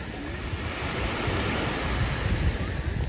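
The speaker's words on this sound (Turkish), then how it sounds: "Şimdi size biraz e, Karasu'nun denizini göstereyim." Sea waves at Karasu beach on a breezy evening, a continuous washing surf roar with wind buffeting the microphone, no voices.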